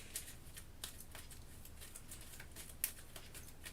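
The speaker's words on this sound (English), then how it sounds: "This is our deck now. Shuffle this up." A deck of Kingdom Death: Monster board game cards is shuffled by hand, making quiet, brief papery riffles and snaps at irregular moments, with one sharper flick near the end.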